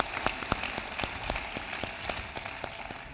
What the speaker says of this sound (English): Give Dr. Durant a round of applause.